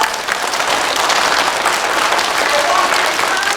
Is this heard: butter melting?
no